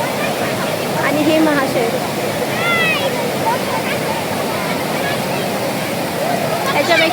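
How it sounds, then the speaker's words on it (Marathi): Strong, steady roar of water pouring down a waterfall at Daryai Mata, Nashik, loud and close throughout, with someone talking over the rush and birds chirping faintly. "हा पाण्याचा फ्लो बघा किती आहे"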